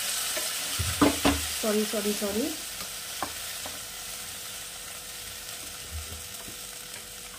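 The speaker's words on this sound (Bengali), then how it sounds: "এবার দিয়ে দিচ্ছি একটু জল সবজিগুলোকে সেদ্ধ হওয়ার জন্য" Vegetables for sajne mouri posto sizzle in a pan as a little water is added, giving a loud burst of hissing and bubbling that settles into a steady low simmer, with a brief spoken word near the start.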